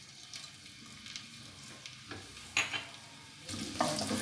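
Sliced green chillies fry in a pan, giving a soft, continuous sizzle with occasional stirring scrapes and a louder burst of sizzling near the end, heard close with no voices.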